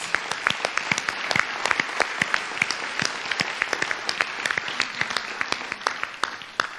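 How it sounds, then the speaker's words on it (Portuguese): Sustained crowd applause at a political party candidate launch in Aruba for MEP parliamentary candidates, dense steady clapping with sharp individual claps standing out, lasting throughout and fading slightly at the end. "tu candidato, tu parlamentario e tu ministro merece um forte aplauso"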